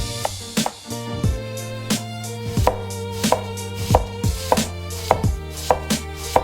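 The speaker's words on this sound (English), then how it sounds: "This is how the pickled radish looks like. Cut them evenly and carefully." Knife chopping pickled radish on a cutting board, a steady series of sharp, close chops at an even rhythm, loud and clear with no voices.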